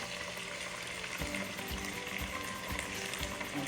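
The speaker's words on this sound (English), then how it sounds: "now I'm adding my onion" Chopped onion frying in a pan of curry cod fish gives a steady sizzle with soft rhythmic scrapes and thumps of stirring, fairly close and moderately loud, with no talk.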